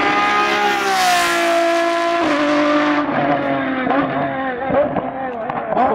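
Lamborghini Essenza SCV12 race car engine revving hard, a loud, close, high-pitched V12 wail climbing, then dropping through gear changes into sharp, choppy blips, with no talk.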